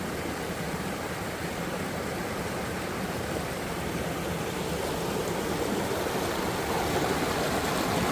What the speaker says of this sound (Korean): 물 시원하게 막 흘러내린다